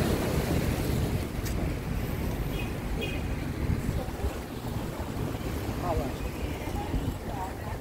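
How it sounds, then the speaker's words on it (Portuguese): A motorboat passes offshore near a beach at Boa Viagem, its engine hum mixed into steady surf and heavy wind buffeting, constant and fairly loud throughout. "A lancha lá, pessoal."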